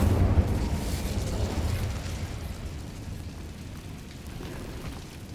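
In Hogwarts Legacy, an Incendio fire spell goes off inside a catacomb with a loud, full burst that rolls into a rumbling roar and slowly fades over several seconds.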